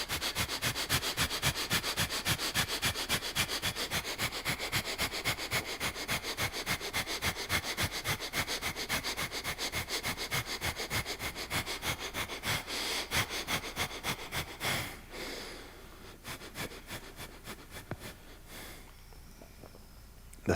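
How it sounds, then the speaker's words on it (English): Rapid, rhythmic sniffing breaths from a chakra breathing exercise, loud and close, sustained for about fifteen seconds before softening into quieter, slower breathing. "The chakra breathing."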